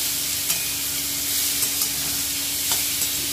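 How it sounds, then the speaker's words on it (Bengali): Watermelon rind with salt and turmeric is stirred in a pan: a soft, steady sizzle broken by a few brief scrapes of the spoon. "দিয়ে দিচ্ছি পরিমাণ মতো নুন, দিয়ে দিচ্ছি পরিমাণ মতো হলুদ দিয়ে আবারও আমি একটু নেড়ে নিচ্ছি।"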